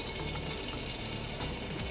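Hot water is poured into a pan of vegetables sautéing in butter and olive oil, giving a steady loud rushing gush.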